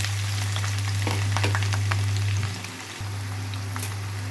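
Onions fry with cardamom, cloves and a piece of cinnamon bark in an oiled pan, making a close, steady sizzle with a few scattered crackles and a low hum underneath, dropping briefly near the middle, with no voices.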